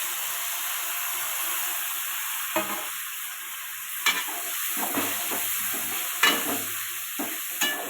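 Mint, coriander and tomato are sautéed in a pan with a steady close sizzle and hiss, broken by several sharp scraping stirs of a spoon against the pan.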